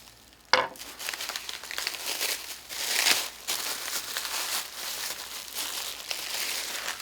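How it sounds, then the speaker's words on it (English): Thick plastic wrap being unwound and peeled off a boxed sword, producing continuous close crinkling and crackling with sharper rustles and a few louder tugs throughout. "bound this up in the plastic wrap. So this will take a moment to unwrap."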